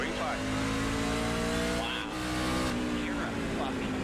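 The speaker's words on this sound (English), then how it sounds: "He just completely spun the tires and lost it" Race car in the iRacing video game spinning its tires, a loud continuous engine drone with sliding tire squeal layered in, steady throughout with a brief dip midway.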